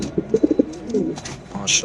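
A male pigeon at a pigeon farm in Mirpur, Dhaka, coos in a short burst of low, rounded notes close up, followed by a brief rustle.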